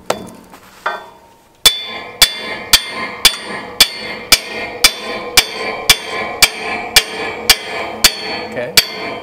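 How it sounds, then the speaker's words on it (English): After a short scrape, sharp metallic hammer blows driving posts down for a bison corral ring out in a steady, evenly spaced series of about fifteen loud, close strikes. "My daughter gets to hammer these things down."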